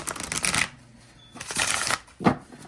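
A deck of cards is shuffled by hand, two bursts of quick riffling flutter separated by a short pause, then a final soft tap as the deck settles, close and clear.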